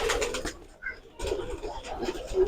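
Giribaz pigeons at a pigeon farm coo in soft, rolling bursts, close by, with a short quieter gap in the middle and a low background murmur around them.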